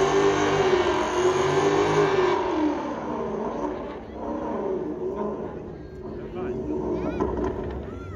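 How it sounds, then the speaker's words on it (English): Engine of a replica Mustang Dark Horse revving hard during a burnout, a loud continuous roar with rising and falling pitch that holds steady throughout, with a voice speaking over it. "Now they're getting lined up for some burnout"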